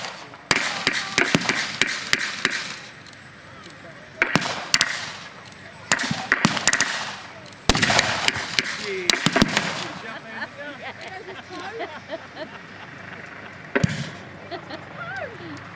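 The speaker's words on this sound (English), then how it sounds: "Now it's the Japanese defenders that are coming under fire from the heavy guns of the battleships." Simulated battleship gunfire at a 1940s re-enactment during an air show in Headcorn, Kent: loud, sharp blasts ring out in irregular bursts, some in quick clusters and others standing alone, over a busy outdoor background where voices can be heard.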